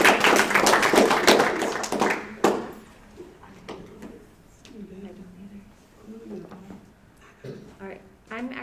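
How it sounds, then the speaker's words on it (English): Audience at a middle school spelling bee claps after a correct spelling: a dense burst of applause for about two seconds, close and fairly loud, then it stops and a speaker talks. "All right, let's give them a round of applause."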